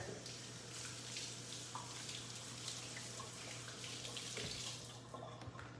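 Steady tap water runs over a red onion being rinsed in a kitchen sink, a continuous broadband splash with slight fluctuations and a faint low hum underneath.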